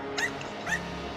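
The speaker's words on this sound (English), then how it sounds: "you can also see that my dog is barking" In the video game Enter the Gungeon, a dog companion barks twice in quick succession, sharp yips rising clearly above a steady game soundtrack.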